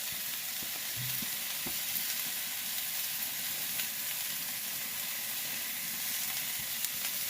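Onions, garlic and asparagus fry in olive oil on a hot salt block, a steady close, loud sizzle and hiss running throughout with small crackles and no voices.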